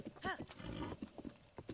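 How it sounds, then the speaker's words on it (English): A horse's hooves clip-clop in a quick burst as it jumps in Zelda: Breath of the Wild, with a short whinny, quiet game sound lasting under two seconds. "The weirdest spot for a horse to jump."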